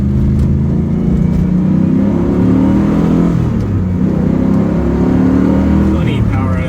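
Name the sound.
1993 Callaway C8 SuperNatural Camaro driving with tire vibration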